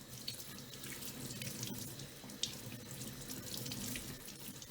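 A Shark Stratos vacuum filter being rinsed under a running cold tap, a steady close splash of water into a sink with a few faint drips, continuous and unbroken throughout.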